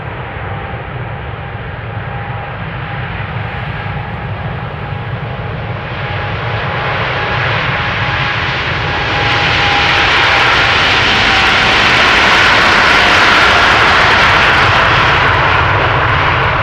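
KLM Boeing 787-10 Dreamliner departing Amsterdam Schiphol in snowy weather, a loud sustained jet engine roar that builds and brightens as the aircraft spools up and passes close by, with a thin whining tone running through it.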